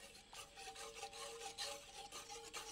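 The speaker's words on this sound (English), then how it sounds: "And whisk that in" A whisk works double cream into a champagne and fish stock sauce for crayfish, giving soft, continuous rubbing and scraping strokes in a steady rhythm, faint and close with no voices.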